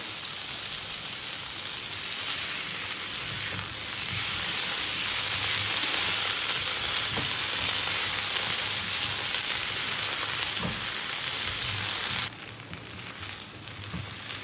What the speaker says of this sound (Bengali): এই মশলাটাকে দিয়ে আমি তরকারিটাকে ভালো করে কষে নেবো